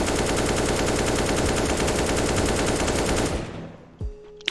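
Sustained automatic rifle fire in a first-person shooter, a dense unbroken burst of rapid shots lasting about three seconds, then trailing off into a couple of faint clicks and thuds.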